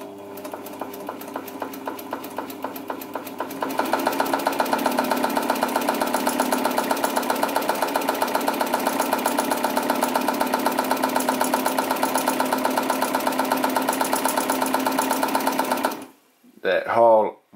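A PFAFF 92 sewing machine motor running, a steady close mechanical whir with rapid regular ticking that rises in speed and loudness after a few seconds, then stops abruptly, followed by a brief burst of speech.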